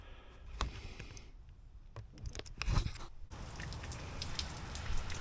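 Cold rain falls steadily outdoors at about 45 degrees, a continuous broadband patter with scattered sharper drops and a brief dip before the hiss returns at full level; no one speaks.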